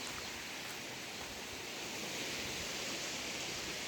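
A waterfall in the jungle pours in a steady, even rush of falling water that holds constant from start to finish, with no voices.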